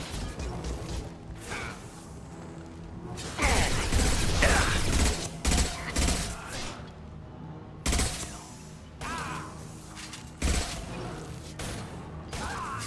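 Rapid bursts of enemy gunfire in the sci-fi shooter Mass Effect 2, loud and dense, with clattering impacts and crashes, heavy shooting peaking midway then continuing in choppy volleys.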